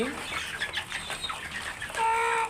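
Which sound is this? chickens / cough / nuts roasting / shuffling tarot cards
chickens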